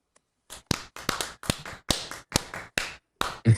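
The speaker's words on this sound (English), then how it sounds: "Clap it up." A few pairs of hands clapping in a brisk, uneven rhythm, about a dozen sharp, close claps after a brief silence, celebrating a Dallas Mavericks basketball win.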